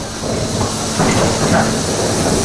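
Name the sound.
subway train sound at Universal Studios attraction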